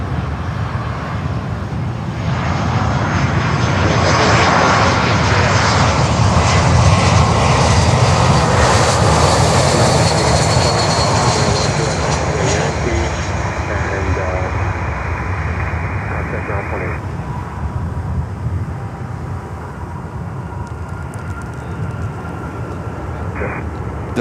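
A Virgin airliner on runway 9 at Miami airport, a loud sustained jet engine roar that swells to a peak near the middle and slowly eases off while staying strong to the end.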